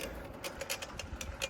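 Worn old bicycle being ridden outdoors, giving a steady run of rhythmic clicking and ticking about every tenth of a second over low road rumble, moderately near.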